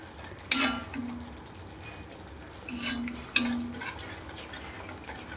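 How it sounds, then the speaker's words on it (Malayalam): Ginger pickle with a quarter spoon of fenugreek powder stirred in a pan, giving a few sharp spoon-on-metal scrapes and clinks spaced over a few seconds, close and fairly quiet with no talking. "ഒരു 1/4 സ്പൂൺ ഉലുവാപ്പൊടിയും കൂടി ഇട്ട് എല്ലാം കൂടി ഒന്ന് ഇളക്കി കൊടുക്കാം"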